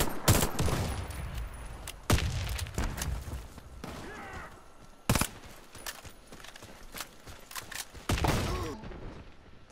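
M4 rifle fire in a Warface team deathmatch: several loud, sharp bursts of gunfire spread across the stretch, separated by quieter gaps with faint background game noise.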